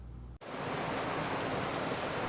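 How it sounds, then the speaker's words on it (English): Heavy rain starts abruptly after a brief quiet moment, a dense, steady roar of downpour that fills the rest of the clip. "A downpour of rain and frigid cold temperatures"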